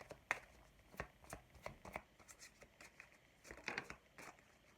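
Oracle cards being handled and laid over one another on a table: a faint run of soft papery slaps and shuffles, several quick clustered taps spread across the moment, close by with no talking.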